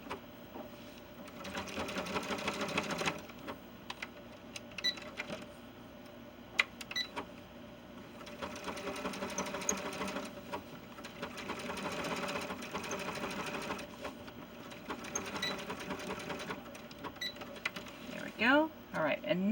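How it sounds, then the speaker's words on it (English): A sewing machine stitches a small, tight zigzag along the inside of a seam on doll pants, running in several bursts of rapid, even mechanical chatter separated by pauses, with faint talk in between. "I like to take a very small, tight zigzag right in here on the inside of the seam that I just sewed."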